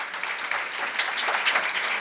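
Steady audience applause at a career seminar as a speaker comes onto the stage, a dense, even wash of clapping from a crowd in a hall, lasting a couple of seconds without a break.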